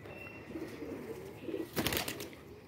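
Soft, low coos from high-flyer pigeons repeat over steady background noise, with a brief flurry of flapping wings near the end as the birds are released.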